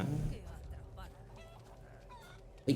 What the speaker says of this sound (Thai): เอ๊ะไก่เสียงดัง